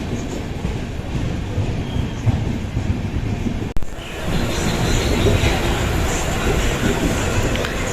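Howrah Mail sleeper class train rolling along between Mumbai and Nagpur, a loud steady rumble of wheels and carriage noise with a brief sharp knock midway, then continuing broadband roar.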